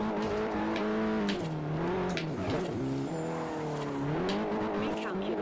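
A Nissan Silvia Spec R drifting in Forza Horizon, its engine droning loud and continuous with rising and falling revs and squealing tires, heard from the cockpit.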